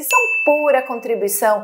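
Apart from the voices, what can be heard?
notification bell ding sound effect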